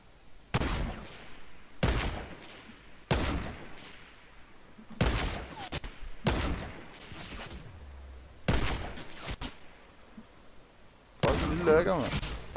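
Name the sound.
gunfire in the video game Fortnite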